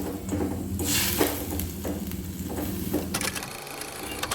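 Maggi noodles simmering in milk in a pot for a sweet payasam, with a steady bubbling simmer, soft stirring scrapes and light clinks of a utensil against the pan throughout.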